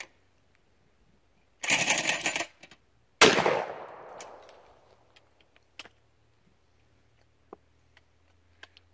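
A Baikal double-barrel 12-gauge shotgun fires two loud, sharp blasts about a second and a half apart outdoors, the second trailing off in a long rolling echo, followed by scattered faint clicks.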